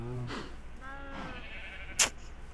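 A Minecraft sheep bleats twice in a row, wavering and close, over a low background hum, followed by a brief sharp game sound effect.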